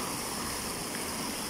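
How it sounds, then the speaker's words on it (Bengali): An indoor waterfall fountain in a Dubai shopping mall gives a brief, steady rush of falling water, faint and even, with no voices. "অনেক চমৎকারভাবে ওয়াটারফল হচ্ছে"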